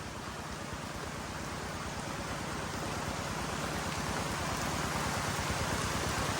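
Steady, dense rain falls on rice fields, a continuous hiss that stays even and fairly loud throughout with no voices.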